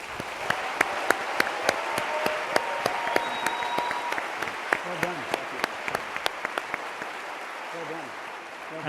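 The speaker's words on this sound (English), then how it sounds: "let's give all the candidates a round of applause" An audience at a 2019 Canadian federal election debate applauds the candidates, sustained clapping from a crowd that holds steady for several seconds before thinning out, with a voice heard briefly near the start.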